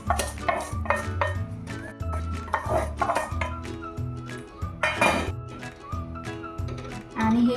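Vermicelli being added to hot milk and stirred for sevaya kheer, with clinks and scrapes of a spoon against the pot under a steady background tone while someone talks throughout.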